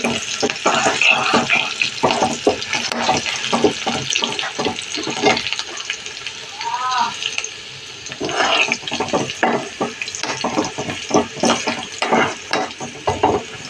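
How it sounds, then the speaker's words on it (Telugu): Chopped green chillies fry in a pan for a tamarind soup, a loud continuous sizzle with rhythmic stirring scrapes, close up and steady throughout. "అయితే 3 పచ్చిమిరపకాయలు కట్ చేసుకున్నా వేసేసుకున్నాం. బాగా వేగాలి."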